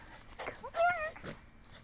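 Dogs at play make a brief, close burst of yips and whimpering squeals, rising and falling over under two seconds.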